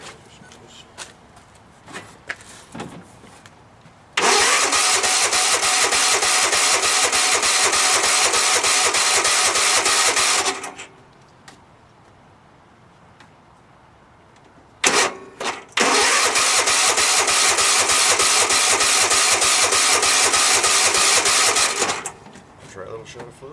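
A free walk-behind lawn mower engine cranks and then roars to life in two long loud bursts of running, with a quiet pause between them, while people talk nearby.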